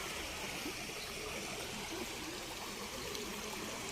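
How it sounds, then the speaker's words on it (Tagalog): River water flows steadily near a large bridge in Rizal, a dense, continuous rushing and trickling wash that fills the whole span without voices. "Yan, ang daloy ng tubig."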